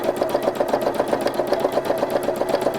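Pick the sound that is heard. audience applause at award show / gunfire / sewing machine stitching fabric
sewing machine stitching fabric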